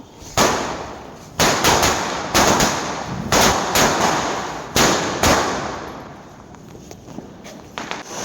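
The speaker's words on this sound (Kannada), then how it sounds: "ಆಮೇಲೆ ನಾವು ಎಲ್ಲರೂ ಸೇರ್ಕೊಂಡು ಪಟಾಕಿ ಹೊಡೆದ್ವಿ ಅದ್ರದ್ದು ವಿಡಿಯೋ ನೋಡಿ" Loud Diwali firecrackers burst one after another, about seven sharp bangs, each followed by crackling and a fading rumble.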